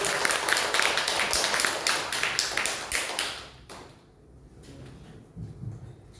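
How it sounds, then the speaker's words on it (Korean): An audience applauds a professor at a lecture event: dense, steady clapping for about three and a half seconds that then breaks off, leaving a quieter room with a few faint stray sounds. "이혜영 교수님 힘찬 박수로 소개합니다"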